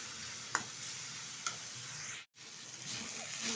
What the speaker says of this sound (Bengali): ভালোভাবে ভেজে নিচ্ছি